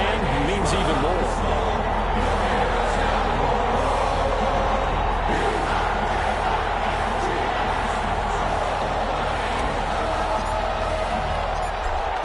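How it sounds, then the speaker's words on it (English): Football stadium crowd during a playoff game, a dense, steady roar of cheering voices filling the whole stretch, with a commentator talking over it. "you got the crowd involved fully on their side in this ballgame"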